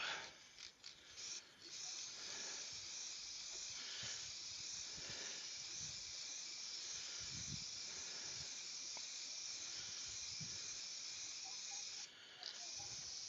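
Finish sprayed onto a pair of turned yew bud vases, a continuous loud aerosol hiss lasting the whole stretch, with only brief dips and faint handling noises underneath.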